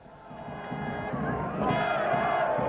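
Roaring football crowd at Bloomfield Road during a match, a dense wall of chanting and cheering voices that swells louder halfway through and stays loud to the end.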